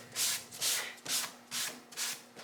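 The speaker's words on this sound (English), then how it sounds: "So keep sanding." Sandpaper on a pad scrubbing a guide coat on a painted fender, a steady rasping in about five rhythmic back-and-forth strokes, close and clear with no talk.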